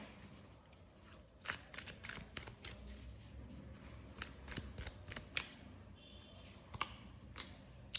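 Tarot cards being shuffled by hand, a run of soft riffling and flicking bursts close by with brief pauses between, and no talking.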